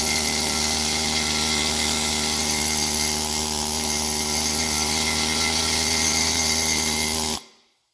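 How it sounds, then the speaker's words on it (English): Pneumatic needle scaler with vibrating steel rods hammering rust and paint off parts during work on a 6.0 turbo engine, a loud, steady buzzing rattle held for about seven seconds before cutting off abruptly. "It's like a slight vibration of all these rods just hammering on stuff."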